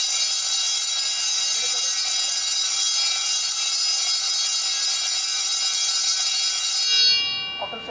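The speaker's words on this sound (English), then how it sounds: "the second bell will get ring and the bell time is going to be 7 seconds of time" A timer-controlled electric college bell rings loud and continuous for about seven seconds, a steady metallic clang that cuts off abruptly, leaving a quiet room with a faint rustle.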